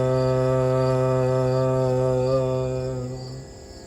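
A harmonium sounds one sustained low note for the root chakra, a steady, rich reed drone held loud and even before fading out in the last second.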